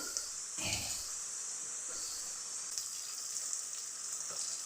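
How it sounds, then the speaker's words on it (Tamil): Chopped green chilies, onion and curry leaves sizzling in oil in a pan, a continuous bright frying hiss with a brief stir around the start, close and without talk. "இந்த வெட்டி வச்ச பச்சை மிளகா வெங்காயம் கருவேப்பிலை இதெல்லாம் போட்டு இப்போ இதெல்லாம் கொஞ்சம் நல்லா வணங்கட்டும்"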